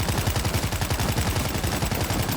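Sustained automatic gunfire from the video game World War Z Aftermath, a loud, dense rapid-fire rattle of repeated shots filling the whole stretch without pause.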